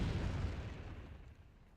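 A deep, rumbling blast from a bombing run while mining in the game Entropia Universe, loud at the start and slowly fading over about two seconds with no talk.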